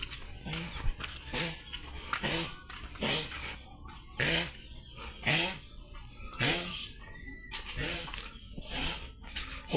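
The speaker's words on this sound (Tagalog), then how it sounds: "May aso." A dog barks repeatedly at a house in the Philippines, a series of medium-distance barks in an irregular rhythm, with people talking nearby.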